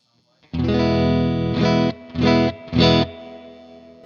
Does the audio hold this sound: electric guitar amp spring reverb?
yes